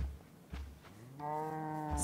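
Cow mooing in the video game Minecraft, a single drawn-out, tonal low moo that swells after a couple of soft thumps and holds steady to the end, clear and close with no talking.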